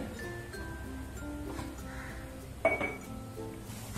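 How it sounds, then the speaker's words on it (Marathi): A metal lid is lifted off a cooking pot of dal baati baked under a weight, giving one sharp clink partway through with faint kitchen clatter around it and no talk. "झाकण काढू."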